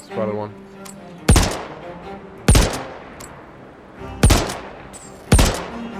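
Ballistic gunfire in Star Citizen during an org battle at the Javelin wreck on Daymar, four sharp, loud separate shots spaced about a second apart, each with a short decaying tail, and a voice briefly heard at the start.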